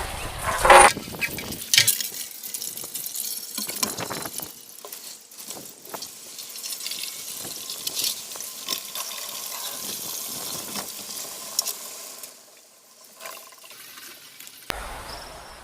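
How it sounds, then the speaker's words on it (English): Water splashing and sloshing inside a motorcycle fuel tank from a Yamaha XV920 as acid is rinsed out, a steady close wash of running water with small clinks, fading briefly near the end. "And then rinse it out with water."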